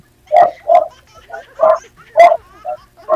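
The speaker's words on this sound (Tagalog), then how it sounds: "Ingay na aso na." A dog barks repeatedly, about seven sharp, loud barks in an uneven rhythm, close by.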